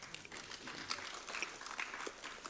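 Applause in a parliamentary debate, a fairly faint, scattered patter of clapping from a group spread through a room, continuing steadily for a couple of seconds.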